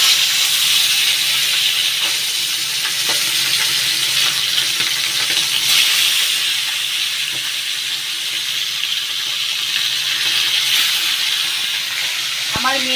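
Oil heating and sizzling in a pan before hilsa fish goes in, a loud, dense hiss close up with a few faint clicks, alone without speech.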